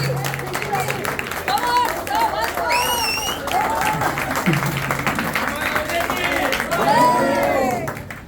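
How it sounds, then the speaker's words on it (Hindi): Audience clapping at a road inauguration ceremony in Powai, broad steady applause mixed with crowd voices and shouts, with talk and calls rising over it throughout. "जो हुआ, अगर अच्छा है तो ताली बजा के बता दो।"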